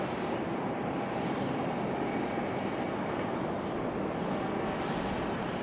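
A United airliner at Raleigh Durham airport gives a steady, loud broadband engine roar that holds evenly throughout, with no talk over it.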